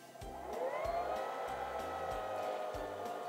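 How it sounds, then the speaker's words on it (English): A Singer Simple 3337 sewing machine winds a bobbin, giving a steady, close motor whir with a rising pitch and a faint rhythmic low thump throughout. "And now we can finish winding the bobbin."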